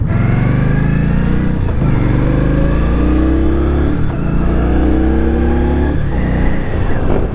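A 2019 Indian Scout Bobber motorcycle engine runs loud and close on a test ride, its steady rumble rising in pitch with each rev and dropping back between gear changes, with no talking.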